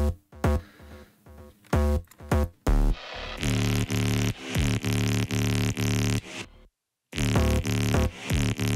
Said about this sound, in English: So this second drop sounds like this.